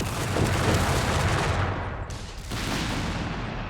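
An artillery barrage in the game Company of Heroes 3 pounds continuously, with dense overlapping blasts and rumbling explosions that fill the whole stretch at high volume.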